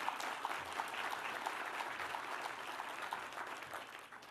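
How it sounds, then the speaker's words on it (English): Steady audience applause fills an award ceremony hall, an even, moderately loud patter of clapping that slowly tapers toward the end. "give me a round of applause"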